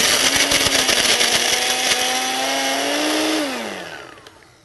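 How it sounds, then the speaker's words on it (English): Cuisinart compact portable blender crushing ice: a loud, steady motor whir with gritty rattling as the ice breaks up, then the motor pitch falls and fades as it spins down. "So let's try crushing some ice."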